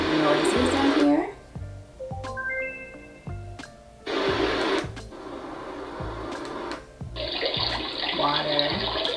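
A toddler's sound machine plays a rushing water sound in bursts, switching on and off between clicks and short beeping tones as settings change, with a voice talking over it.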